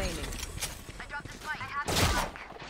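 Gunfire in Valorant, a rapid cluster of sharp shots and bursts over roughly three seconds, mixed with game effects and faint voice chatter in the background.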